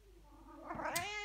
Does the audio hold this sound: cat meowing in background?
yes